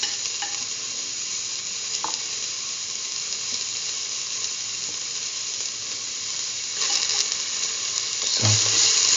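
Ginger dropped into a hot pan for a potato cucumber stew, giving a steady close sizzle with a few stirring clicks and a brief louder scrape near the end.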